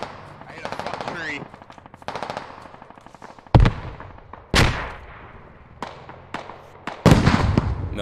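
Gunfire in a video game: rapid automatic bursts and several sharp, loud single shots cracking close by, with a whizzing round passing near the listener.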